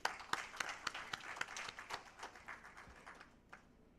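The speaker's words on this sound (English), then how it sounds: "Let's have a big clap." A seminar audience claps for an honoree at an award event, a faint, thin patter of scattered hand claps with sharp individual strikes that tapers away over a few seconds.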